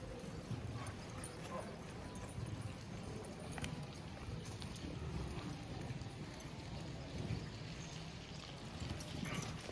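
Horse hooves clip-clop faintly on the ground during a riding training session, soft and irregular beneath a constant low background hum, with no clear voices.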